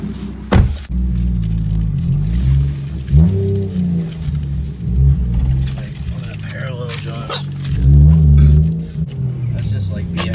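A Lexus IS300 fitted with a 1JZ engine drifting on a concrete slab, its loud engine droning and surging with rising revs, heard up close with people talking over it.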